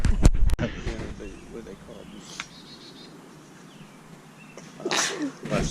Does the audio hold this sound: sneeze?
yes